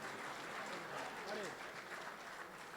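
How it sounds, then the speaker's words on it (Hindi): Audience applause fills a mushaira poetry gathering in Qatar as a crowd claps in a continuous, moderately loud wash, with some murmuring underneath. "मैं चाहता हूं आप जोरदार तालियों के साथ हम जिनका इंतजार कर रहे थे उनको आवाज दें"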